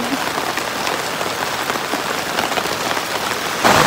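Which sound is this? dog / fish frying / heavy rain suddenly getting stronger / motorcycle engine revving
heavy rain suddenly getting stronger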